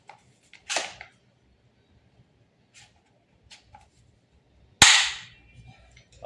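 Airsoft gas blowback rifle, a Redmantoys Edition BCM MCMR MK2 14.5, fires two sharp, loud single shots several seconds apart, each with a brief clattering snap, amid faint background clicks.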